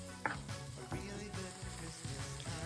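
Chopped onions sauté in melted butter in a pan, giving a steady soft sizzle under a tonal background, with a brief clack early on; quiet overall.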